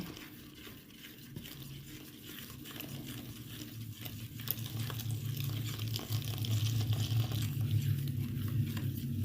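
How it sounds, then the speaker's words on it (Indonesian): Coconut milk is poured into a flour batter for kue mangkok and stirred, giving a continuous wet, sloshing churn with rhythmic scraping strokes that thicken and grow louder toward the end. "kita tuang santannya ya teman-teman, sambil kita aduk seperti ini"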